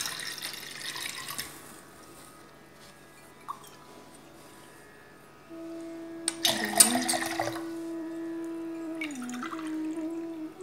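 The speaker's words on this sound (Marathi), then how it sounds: "यामध्ये आता साधं पाणी घालूया" Plain water poured into kokum juice in a half-full glass for sherbet, a quiet trickling pour rising in the middle of the clip amid faint kitchen sounds, with no talk.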